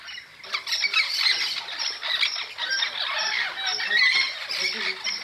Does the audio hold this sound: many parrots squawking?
yes